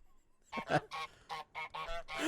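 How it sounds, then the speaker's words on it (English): Two geese in a Nintendo indie game trailer honk loudly and close by, letting out about seven harsh, nasal calls in quick succession after a short quiet start. "poor kid's getting harassed by two geese now"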